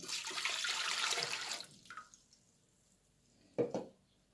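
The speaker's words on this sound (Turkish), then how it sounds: "İlk olarak içerisine suyumuzu" Water poured into the pan of an Arçelik bread machine, a steady splashing pour lasting about a second and a half, followed by a few faint, brief clinks.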